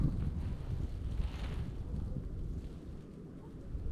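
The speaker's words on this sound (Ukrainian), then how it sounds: "І вітер сильний до 5 метрів" Strong wind gusts buffet the microphone at a frozen winter fishing spot, producing a steady low rumble with no talking.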